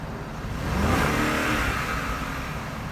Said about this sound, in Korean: 자, 가속 한번 해볼게요